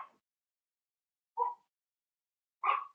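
A dog barking three times in short, spaced bursts, faint and somewhat distant against an otherwise silent background.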